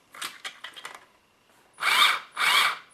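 Electric motor of a 1/14 Tamiya Globe Liner RC truck running, in short whirring bursts with gaps between them and two longer, louder spins near the end, close by with no talk.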